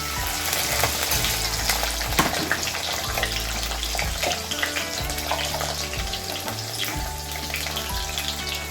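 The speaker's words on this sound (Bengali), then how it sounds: "আলুগুলোকেও আমি একটু ভালো করে ভেজে নেব" Potato pieces fry in hot spiced oil, a dense continuous sizzle with a low steady hum beneath and occasional faint stirring, no speech.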